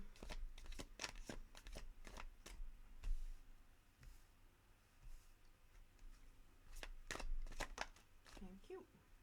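Tarot cards shuffled by hand and drawn, with quick rhythmic riffling clicks in two close bursts separated by a quieter pause, faint and near, with a soft murmur of background sound.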